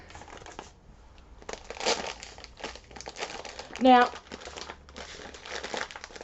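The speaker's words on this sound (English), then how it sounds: "Excuse the rustles of the plastic bag." A plastic bag crinkles and rustles close by while homemade sugar scrub is prepared, with intermittent crackling bursts and a louder crumple near the middle, and someone speaks briefly.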